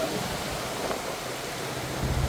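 Floodwater rushes over the Vattuvakal bridge in Mullaitivu, a steady broadband roar of fast-flowing water that stays loud and constant throughout with no pauses.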